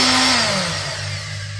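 An electric sander runs loud and steady near the microphone, its whine dropping slightly in pitch as it settles into a constant motor drone for under two seconds.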